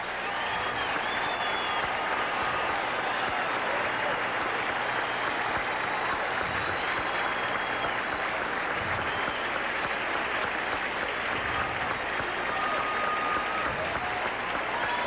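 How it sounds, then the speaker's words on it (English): Stadium crowd at a Cincinnati Reds at New York Mets baseball game giving a long standing ovation, dense sustained applause and cheering that holds steady and loud throughout with no break. "Great crowd here tonight, and receiving a tremendous ovation."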